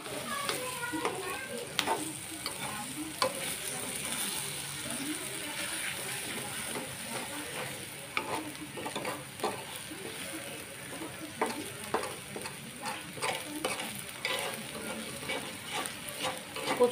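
Taro leaves cooking with hilsa fish are stirred in a pan, with scraping and clinking of a spatula over a steady sizzle, irregular strokes throughout, and faint voices in the background.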